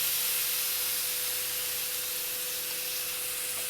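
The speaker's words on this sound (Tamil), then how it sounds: "எண்ணெய் நல்லா சூடு வந்ததும் இந்த லெக் பீஸ் எடுத்து அந்த எண்ணெயில் போட்டுருங்க." Chicken leg pieces fry in hot oil, giving a dense, steady hiss that stays loud and even without a break.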